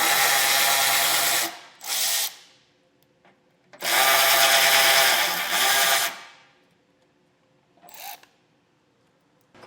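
Power drill or impact driver spinning out 10mm bolts from the center grill support of a 2021 Jeep Grand Cherokee, two long loud whirring bursts with short pauses and a brief final spin, close up.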